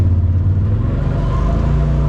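A Polaris RZR Pro XP side-by-side drones along a steep trail in low gear, its engine a loud, steady, close rumble with no voices over it.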